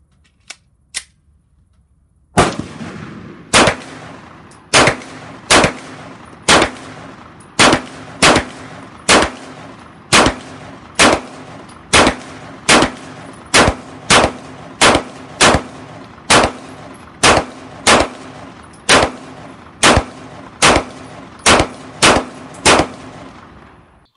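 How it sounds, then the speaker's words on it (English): An FN 509 Tactical pistol fires Sig 124-grain full metal jacket supersonic rounds in a long, evenly paced string of about twenty loud, sharp shots, each followed by a brief ringing decay, after a quiet start. "Shooting Sig 124 grain full metal jacket."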